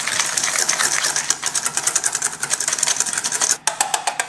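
A whisk beating cornstarch with apple and lemon juice in a bowl for apple crisp makes fast, even metallic clicking. The whisking is close and loud, with a brief break near the end.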